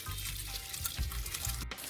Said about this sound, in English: So I'm just draining the water from the ackee.